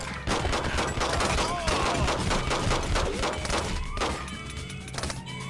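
Heavy gunfire in a SWAT 4 tactical police raid, rapid loud overlapping shots and thuds packed close together, with players talking over the shooting.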